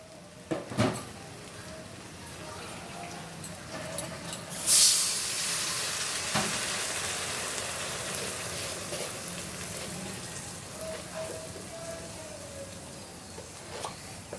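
Garlic and ginger paste hits hot oil in a pan for a Bengali koi fish curry, setting off a sharp burst of hissing followed by a steady, close sizzle, with occasional knocks of a utensil against the pan.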